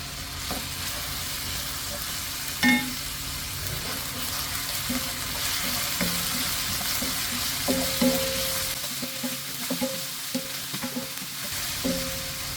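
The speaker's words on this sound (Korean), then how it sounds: "양파 양파 넣어주고요. 당근이랑 다른 버섯을 뺀 야채 넣어줍니다." Onion, carrot and other vegetables stir-fry in a hot pan for an octopus rice bowl, a steady sizzle broken by scraping and tapping of a utensil, with a brief run of tap water partway through.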